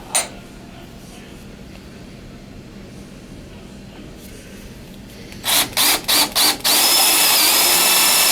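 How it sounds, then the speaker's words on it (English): Power drill boring the wide part of a hole before it is drilled out for a shaft, heard as several short close bursts followed by one loud continuous run, after a quiet stretch with a single brief click near the start. "So we have to drill the wide part of this hole first"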